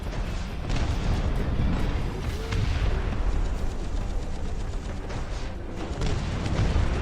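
Video game APC turrets fire in a dense, continuous barrage of booming, rumbling shots that stays loud throughout, with no talk over it.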